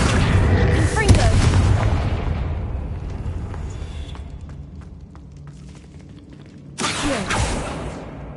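A booming magical blast from the Confringo spell in a Harry Potter game, a loud burst at the start that decays slowly, then a second sharp blast near the end.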